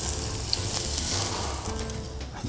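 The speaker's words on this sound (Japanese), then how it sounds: "サラダ油を熱し上からかけていきます。" Hot salad oil is poured over steamed white fish with spring vegetables, green onion and ginger, giving a loud, steady crackling sizzle with bright spitting pops throughout.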